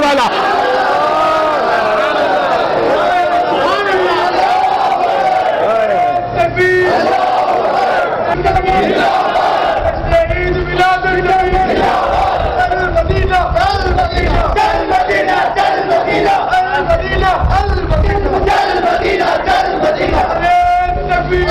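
A large crowd at a religious gathering celebrating the Prophet's birth shouts slogans in unison, loud massed voices rising and falling in repeated chant waves that continue throughout.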